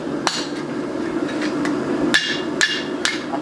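Hand hammer blows on a forged picaroon hatchet head, about six sharp metallic strikes at irregular intervals, close and loud over a steady low shop hum, with no talking.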